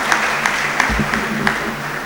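Brief burst of audience applause at a Gujarati community talk on Gandhi, steady clapping close by with a few sharper claps standing out.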